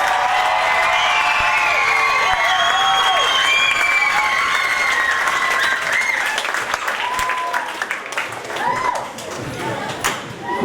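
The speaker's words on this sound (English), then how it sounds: "One last chance for a big cheer." Loud, sustained audience applause and cheering fill a battle of the bands show, dense clapping with whoops and shouts on top, holding steady before thinning slightly near the end.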